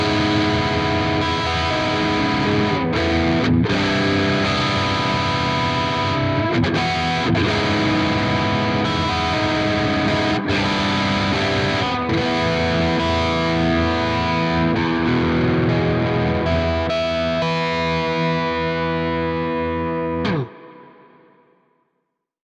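Distorted electric guitar chords ring out through a modulated reverb with a shimmering, swirling tail, played continuously before cutting off and fading into a brief wash.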